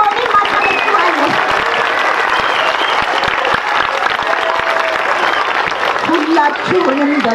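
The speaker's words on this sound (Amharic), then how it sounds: "ልጆች ለመምህራኖቻችሁ፣ ለረዳቶች፣ እስቲ ሞቅ ያለ ጭብጨባ ይሆን ማጠበቅዋለሁ።" Children and adults at a school opening ceremony give a sustained burst of applause, a dense, loud clatter of many hands lasting several seconds, with a voice briefly audible near the end.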